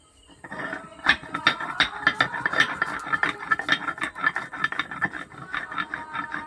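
Chopped garlic being ground by hand into a fine paste, a steady series of gritty scraping and grinding strokes, close and fairly quiet, with no talking.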